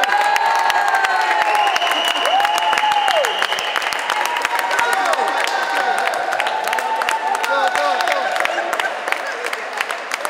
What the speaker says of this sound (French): je voudrais un tonnerre d'applaudissements pour le meilleur coach